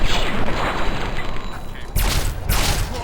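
Heavy gunfire in Fallout 3, loud and continuous with booming bursts, a couple of stronger blasts near the end, partly under a voice.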